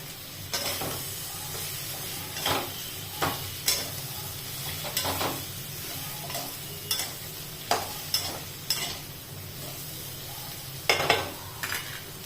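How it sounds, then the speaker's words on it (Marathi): Tomatoes being stirred and sautéed in a pan, a soft background sizzle broken by a dozen or so irregular scraping strokes of a spatula against the pan, close and fairly quiet. "टोमॅटो टोमॅटो पण छान असा परतवून घ्यायचा आहे"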